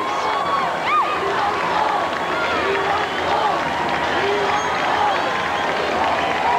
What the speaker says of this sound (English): the crowd is getting fairly insistent. They want the Bulls.